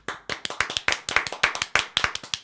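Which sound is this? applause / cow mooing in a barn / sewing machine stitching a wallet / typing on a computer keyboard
applause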